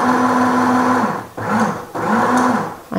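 An Elna Mini / Janome Sew Mini sewing machine winds a bobbin with a loud, steady motor whine, cutting off briefly twice and spinning back up each time.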